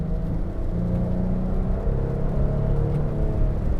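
Low rumbling engine of a 2022 Nissan Frontier Pro-4X pickup during manual downshifts, a steady close drone with slight pitch shifts and no talking.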